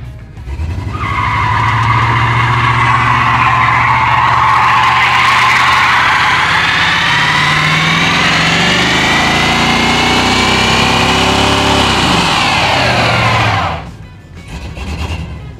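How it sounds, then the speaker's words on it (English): A Chevrolet C10 pickup truck engine revs hard as tires spin and screech in a long, loud burnout that holds for many seconds before cutting off abruptly. "She does a burnout."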